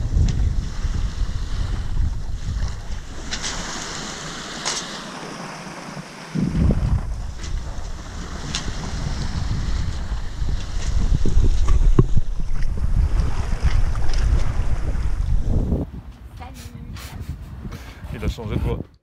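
Steady wind rushes over a sailboat running downwind under a genoa on a crossing back from the Balearics, with washing water and boat noise underneath and voices in the background, swelling in the middle and easing near the end.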